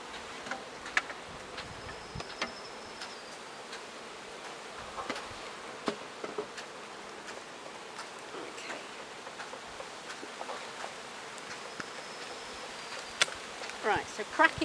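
Honeybees hum around an opened beehive as the super is lifted off, a faint, steady outdoor buzz with scattered soft knocks and clicks from handling the hive boxes.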